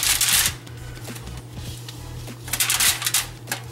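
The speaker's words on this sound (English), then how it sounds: "The first part, I put the foil in my baking pan." Aluminum foil is pressed into a baking pan, giving loud crinkling and rustling bursts at the start and again near the end, with quieter handling crackles in between, close up.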